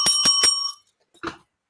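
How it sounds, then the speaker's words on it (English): A hand bell rings three quick bright strikes close by, then falls silent before a short thud or rattle as it is set down. "Let me get my bell."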